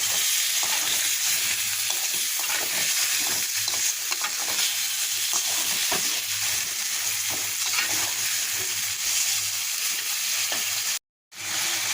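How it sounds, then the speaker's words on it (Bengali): Continuous hissing sizzle of taro and pointed gourd stir-frying with spices in a pan, with frequent scraping stirs throughout and a brief silent break near the end. "এখন এটাকে ভালোভাবে কষিয়ে নেবে মশলার সঙ্গে"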